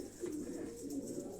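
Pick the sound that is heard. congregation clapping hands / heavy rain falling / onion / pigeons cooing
pigeons cooing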